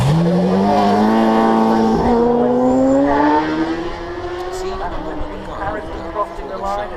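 Superbike racing motorcycles on the Isle of Man TT course at Creg Ny Baa, an engine screaming and climbing in pitch as it approaches, then fading off while a commentator talks over it.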